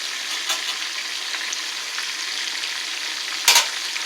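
Chicken drumettes frying in a pan, giving a steady, even sizzle with a soft crackle throughout and one brief louder pop or clatter near the end.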